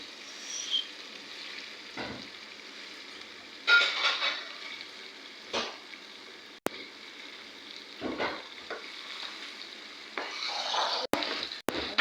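Tomatoes go into a hot pan for an African beef roast and tomato stew, producing a steady soft sizzle and frying hiss with occasional stirring scrapes and metallic clicks, close up and without speech.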